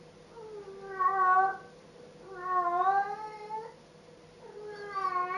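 A cat in Farming Simulator 22 meows three times in drawn-out, evenly spaced cries, clear and close against a quiet background.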